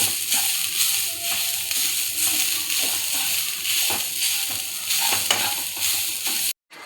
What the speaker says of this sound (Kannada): ಇದು ಸ್ವಲ್ಪ ಕಲರ್ ಚೇಂಜ್ ಆಗೋ ತನಕ ಹುರಿಬೇಕು.